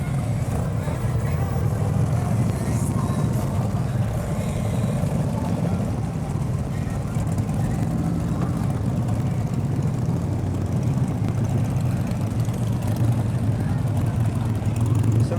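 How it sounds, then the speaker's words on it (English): Steady low rumble of several motorcycle engines idling and rolling past in a homecoming parade on a main street, continuous throughout with faint voices underneath. "we'll have the American Legion Riders with their motorcycles, and you can hear them coming down Main as we speak"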